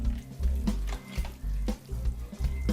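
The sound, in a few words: stirring asparagus risotto with grated Parmesan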